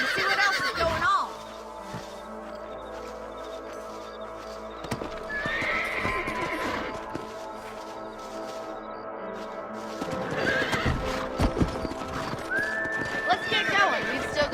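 Horses in the Red Dead Redemption video game neigh and whinny in several loud bursts, with hoofbeats and movement noises between them, over game music and ambience while voices speak.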